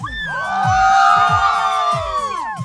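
A large crowd at a concert screams and cheers loudly, with many high voices whooping and shouting together in a sustained roar.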